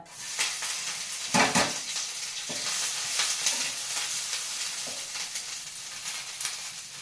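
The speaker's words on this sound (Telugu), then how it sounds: "ఇప్పుడు అదే ప్యాన్లో కొంచెం ఆయిల్ వేయాలి ఎందుకంటే కరివేపాకు వేయించుకోవాలి కదా" Curry leaves frying in oil in a pan: a steady, close crackling sizzle with occasional louder pops and spatters and a few soft stirring knocks against the pan.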